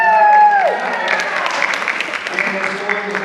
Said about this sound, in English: we're going to give them a big round of applause as well